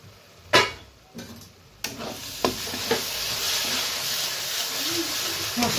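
Duck curry spice paste frying in a pan: a few sharp knocks of a spoon against the pan, then a steady, close sizzle that continues with occasional stirring scrapes.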